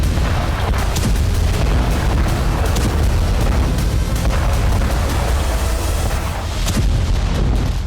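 Loud, continuous roaring rumble with repeated sharp blasts and booms scattered throughout, heavy explosions in the city of Qom, Iran, dense and unrelenting.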